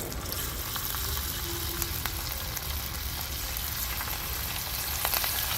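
Cauliflower pieces for gobi 65 drop into hot oil over a wood-fired stove, giving a continuous crackling sizzle with scattered sharp pops. The frying sound is close and even, with no voices.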